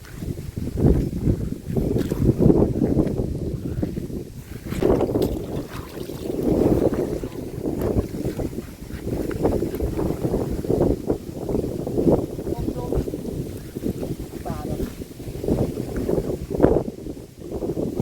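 Dry wind blows outdoors over an open field of flooded rice paddies, a loud, continuous low buffeting rumble that rises and falls in gusts close to the microphone.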